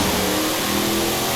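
A restored, supercharged car in a racing video game revs hard as it accelerates on a rain-wet road, giving a brief, loud, continuous engine roar.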